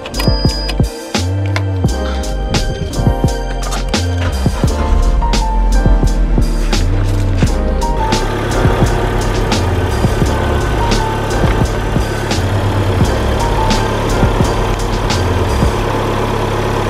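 A Vauxhall Astra with a flat battery, jump-started, catches and runs. The loud, close engine settles into a steady idle with rhythmic mechanical ticking throughout.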